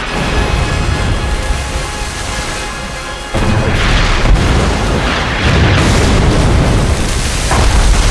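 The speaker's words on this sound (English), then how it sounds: "Rodney and King George closed rapidly, firing salvo after salvo." Battleships Rodney and King George V fire salvos at Bismarck, heavy booming blasts arriving in a few loud surges over a constant rumbling roar.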